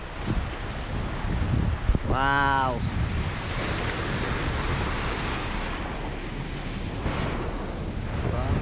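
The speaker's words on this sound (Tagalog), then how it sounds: "Ayun, dagat na pala to. Dagat na tayo." Sea waves roll and wash onto the coast in Bicol, a steady broad roar mixed with heavy wind buffeting, and a brief voice-like tone briefly rising through the noise.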